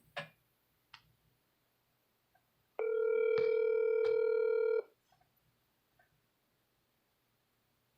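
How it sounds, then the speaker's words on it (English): A steady telephone tone holds for about two seconds with a couple of clicks inside it, surrounded by faint ticks and quiet room noise. "I'm just going to make myself a simple little phone call and get my partner"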